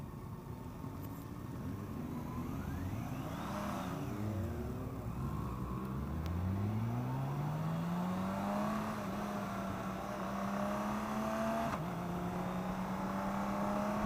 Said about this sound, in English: Just that clutchless downshift